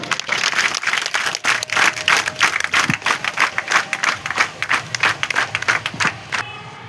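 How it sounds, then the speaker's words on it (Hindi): A school crowd at an Independence Day event in Kathua applauds to welcome the principal: a dense burst of clapping with some crowd noise that thins into separate, distinct claps before dying away. "कृपया तालियां बजाकर उनका स्वागत करें।"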